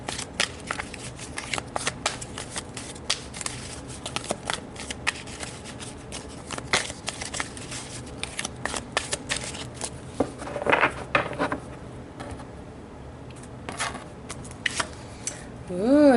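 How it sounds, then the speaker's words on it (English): Tarot cards being shuffled by hand, a long run of quick riffling, crisp papery flicks and taps, close and fairly quiet, with a short burst of brighter rustling near the end. "So I'm going to pull a card to look at the overall outcome for you"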